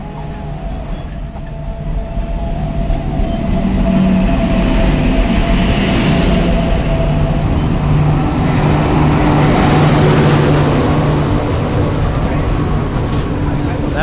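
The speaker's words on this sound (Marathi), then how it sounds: "फायनली आपली ट्रेन आलेली आहे" A Ratnagiri–Diva passenger train rumbles steadily through Khed station, a broad low roar with a faint hum, building over the first few seconds and then holding loud and continuous.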